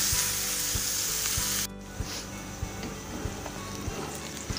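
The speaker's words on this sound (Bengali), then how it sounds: "পেঁয়াজটা হালকা বাদামি করে ভাজতে হবে" A cup of chopped onions frying in a pan until light brown, giving a steady, close, loud sizzle with soft regular knocks of stirring.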